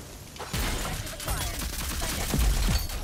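Phantom rifle from Valorant firing a close burst of rapid automatic shots, fairly quiet overall with sharp thumps and crackling impacts.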